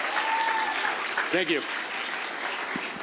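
An audience claps and applauds loudly and steadily for a chef at a culinary demonstration stage, while a voice briefly says a few words of thanks over the clapping.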